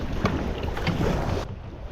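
A kayak is paddled upstream against a strong, shallow, rocky current of waste water, with steady rushing water and wind buffeting close to the microphone.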